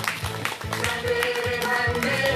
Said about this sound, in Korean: 큰 박수 주시기 바랍니다.